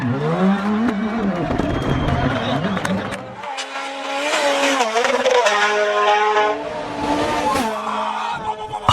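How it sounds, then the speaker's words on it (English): Rally cars racing on a stage, engines roaring loud and close with shifting pitch as they pass, tyre noise mixed in, and a brief drop in intensity midway before the roar builds again. "That's pure engine music right there."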